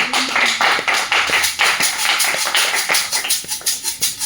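A church congregation claps in praise, sharp hand claps falling in a steady, rhythmic beat, loud and close, with no talking over them.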